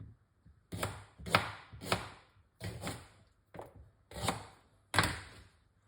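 A large piece of ginger chopped with a knife on a cutting board, seven crisp, close chops at a steady, unhurried pace with short pauses between them.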